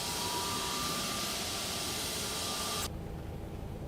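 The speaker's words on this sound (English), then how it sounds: "Those engine sounds are just beautiful." Airbus A320neo jet engines in the X-Plane 12 flight simulator, Frontier Airlines livery, giving a steady loud broadband roar with a faint whine that cuts to a lower, duller rumble near the end.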